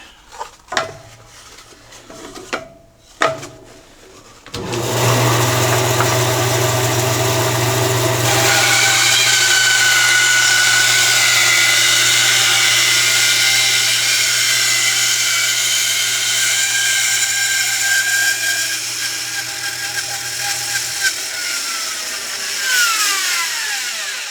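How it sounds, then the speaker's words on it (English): A bandsaw starts up after a few handling knocks and runs with a loud, steady whine while cutting a wooden inlay piece free. The motor hum drops away near the end as the blade winds down. "I'll take it over to the bandsaw here and cut it off the rest of the way here"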